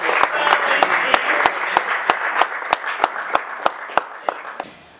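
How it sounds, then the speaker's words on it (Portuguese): Rhythmic unison clapping from an audience at a memorial gathering: a steady beat of sharp, loud claps about three per second over a background of scattered applause that fades at the end. "Vamos bater palmas para o nosso..."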